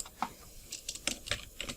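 Keystrokes on a computer keyboard while entering data in Excel, about eight irregular clicks spread across the moment, fairly close and alone.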